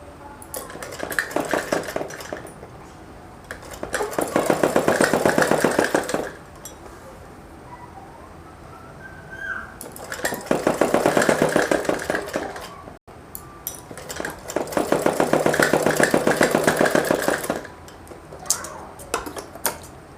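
A sewing machine stitching piping onto a suit runs in three long bursts of rapid, steady needle chatter, loud and close, with quieter pauses between runs.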